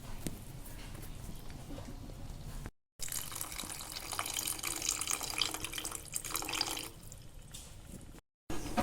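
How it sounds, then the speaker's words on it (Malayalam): Tamarind water pours and splashes steadily into a pot of rasam for several seconds, with a brief pause partway through and no talking. "ഇനി നമുക്ക് പുളി ഒഴിക്കാം."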